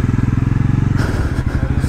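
Bajaj Pulsar NS400Z motorcycle engine thrumming steadily while riding through narrow city lanes, a loud, close, rhythmic pulsing exhaust beat that roughens and wavers as the throttle changes partway through.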